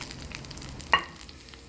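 Tempering spices, dried red chillies, curry leaves and crushed ginger go into hot oil for a chickpea dish, giving a soft, faint sizzle with one brief sharp crackle midway.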